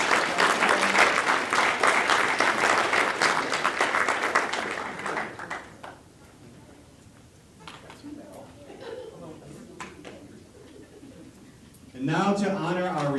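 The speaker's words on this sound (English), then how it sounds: "Another round of applause for our tenure recipients." A room at a school board of education meeting breaks into dense applause for tenure recipients for about five seconds, then fades to scattered claps and murmurs before a voice begins speaking.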